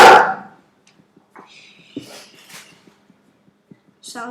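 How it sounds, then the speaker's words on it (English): A pet dog lets out a loud single bark right at the start, followed by near-silence with only faint, scattered ticks and soft background noises. "sorry. My dog."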